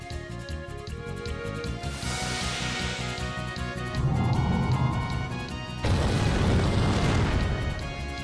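Bombs burst in the video game Wild ARMs 3, two heavy crashing blasts with long noisy tails rolling over a busy game music bed, loud and close.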